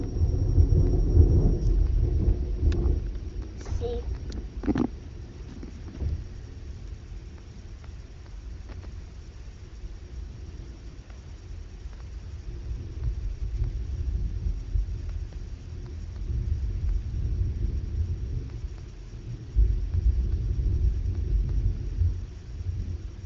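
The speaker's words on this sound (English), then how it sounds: "Well, it is thundering." Deep thunder rumbles and rolls through a morning storm, low and heavy, swelling and fading over a long stretch, with rain hiss in the background and a brief spoken word early on.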